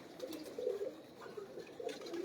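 Pigeons coo quietly in a loft, low warbling calls rising and falling in short bursts with faint scratchy background sounds.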